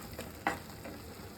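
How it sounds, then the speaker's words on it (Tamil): Egg curry bubbles in a pan, a soft, steady simmer with faint sizzling and a brief louder pop midway, no voices. "இப்போதைக்கு இது நல்லா கொதிக்க, பார்த்தீங்களா எப்படி கொதிக்க"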